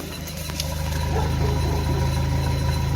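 A 1992 Nissan Hardbody D21 pickup engine idles steadily and close by, a smooth, even low rumble with no sputter, building slightly at the start and then holding constant.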